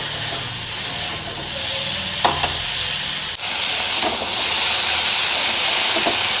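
Food fries in a hot pan for a home-cooked country chicken curry, a steady bright sizzle and hiss throughout that turns louder and sharper halfway through, with no talking.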